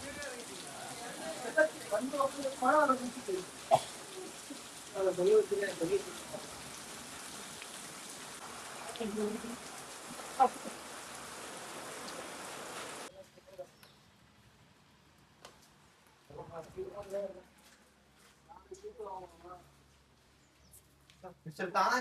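Monsoon rain falls steadily in Vagamon, a continuous hiss of drops under frequent talk from several people, cutting out partway through before resuming more faintly with more speech.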